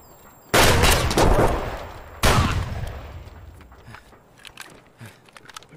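Two loud, close bursts of gunfire in Escape from Tarkov, each a sharp blast followed by a dense ringing decay, then quieter scattered clatter trailing off.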